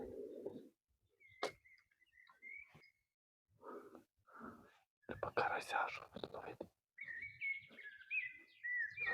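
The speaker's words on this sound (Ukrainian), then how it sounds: "там пташка співає." A small bird sings outdoors by the Southern Bug river after rain, its bright chirps and warbling phrases coming in bursts, with quiet spoken voices and rustling nearby.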